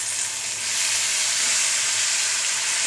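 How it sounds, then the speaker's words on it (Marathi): Whole ripe country tomatoes drop into a hot turmeric tempering and fry, giving a steady, dense sizzle and hiss, close and loud throughout, with no talk. "आणि आता त्याच्यामध्ये आपण पूर्णपणे टमाटे टाकत आहोत।"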